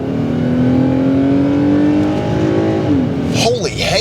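A Toyota Crown Athlete's engine pulls steadily under acceleration from inside the cabin, its rising drone loud and continuous, with a voice talking over the end.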